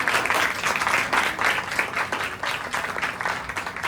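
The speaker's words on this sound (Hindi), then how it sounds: "ताली बजा दीजिए अंकित के लिए।" An academy audience at a farewell event claps for a student receiving a discipline award, a lively, continuous round of applause with rhythmic surges throughout.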